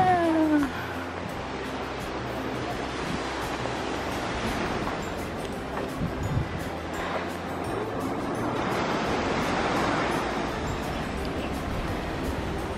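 Waves wash onto the beach at Sant Pol de Mar, Spain, in broad surges, with a brief meow-like cry at the start and gentle wind in between.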